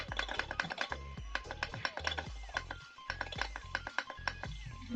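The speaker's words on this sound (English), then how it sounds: "The clicking you're hearing is him hitting the joystick button." Rapid, uneven clicking of a joystick button on Tandy Color Computer (CoCo) hardware, close and crisp, in quick bursts over a steady low hum with no talk.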